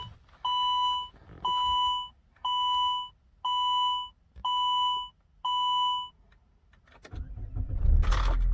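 Saab 9-3 Sport Combi wagon with a 2.0 turbo four-cylinder, key turned in the ignition: six evenly spaced warning beeps chime first, then the engine cranks and catches into a loud rising rumble, no talk.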